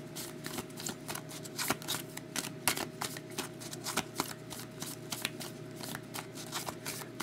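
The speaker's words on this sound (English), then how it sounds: "not fire the cards all over the room when I'm shuffling here." A deck of playing cards being shuffled in repeated quick riffles during a card-breaking session, crisp flutters and snaps recurring at a steady pace, close up with no talking.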